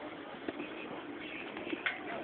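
Pigeons coo softly outdoors, a couple of brief calls rising above a steady wash of background noise.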